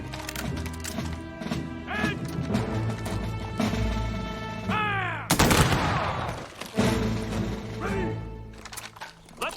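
Rifle volley fired by a line of soldiers in a period drama, several sharp loud cracks and crashes amid shouted commands, ringing tones and battle commotion.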